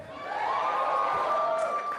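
An audience at a Jon Huck stand-up comedy show cheers and applauds, a sustained crowd roar with whoops, swelling to a steady level and holding for the full two seconds.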